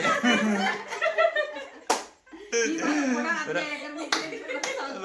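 A mother clapping her hands at a family birthday surprise at home: a few sharp, separate claps amid people talking and laughing nearby.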